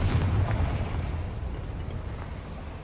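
A deep, booming blast from the Confringo spell in a wizard video game rumbles loudly at once and then decays over a few seconds.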